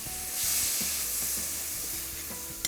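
Two chopped medium tomatoes cook with spices in a hot pan for a Malabar prawn curry, giving a steady close sizzle and hiss with faint stirring scrapes and no talk.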